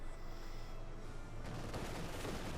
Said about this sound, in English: We've got heavy machine gun fire, half tech fire as well.